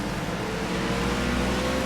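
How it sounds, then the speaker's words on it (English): A race car engine drones loudly and steadily at Mid-Ohio, its pitch shifting as it downshifts into the turns, close and continuous with no voices. "Hear him downshifting coming into the turns."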